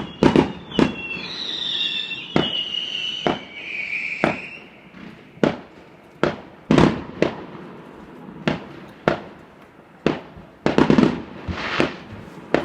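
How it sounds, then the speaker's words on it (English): Repeated fireworks explosions in cold outdoor air, sharp loud bangs going off irregularly one after another, some with crackling bursts and whistling tails early on, with echoing decay between blasts. "Explosions, part 3."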